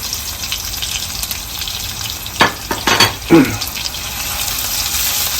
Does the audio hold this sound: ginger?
yes